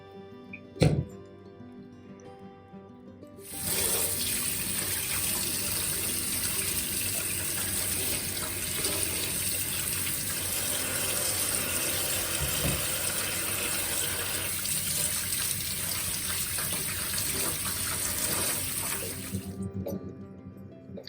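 Hot water gushes steadily from a kitchen tap to rinse a knife after cutting young jackfruit, starting after a brief thunk and running continuously and fairly loud for about sixteen seconds before cutting off.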